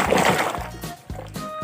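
Water splashes and sloshes as toy cars are washed, a few short wet splashes close by over a low gurgling background.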